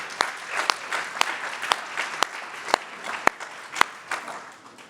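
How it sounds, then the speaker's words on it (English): A room full of people applauding servers at a church-hall celebration. Steady, moderately loud clapping carries sharp individual claps that stand out through the crowd. "I just want to a round of applause for Lisa and all of her servers"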